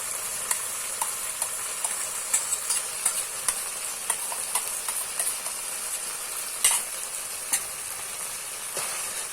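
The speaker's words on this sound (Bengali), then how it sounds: "ফেটিয়ে রাখা টক দই দিয়ে দিচ্ছি" Whisked sour curd hitting a hot pan while aloo dum cooks, giving a steady close sizzle and frying hiss with scattered spoon scrapes and stirring clicks throughout, no voices.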